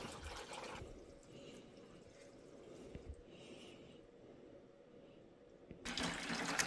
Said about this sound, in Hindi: धीरे धीरे देखिए वॉल के नीचे पानी जा रहा है हमारा